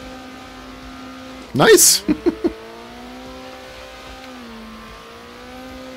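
A racing car spinning donuts in Circuit Superstars, a sharp burst of tyre squeal and revving followed by a few quick engine blips over a steady engine drone, with someone speaking briefly.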